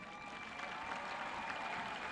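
A large audience at a high school graduation ceremony applauds in a broad, distant, reverberant wash of clapping, steady and moderately faint.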